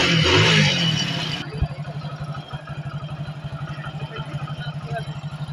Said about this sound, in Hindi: जैसे कि अभी बाइक हम स्टार्ट कर रहे हैं।